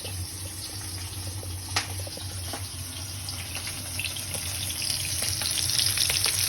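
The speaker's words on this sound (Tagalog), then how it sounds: "Habang piniprito po natin to. Bangus belly." Milkfish (bangus) belly fries in a pan, giving a continuous hissing sizzle sprinkled with small pops that grows gradually louder, with no talking.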